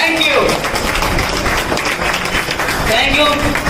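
Audience applause at an award ceremony, a dense burst of many hands clapping loudly and continuously for a few seconds, with voices mixed in.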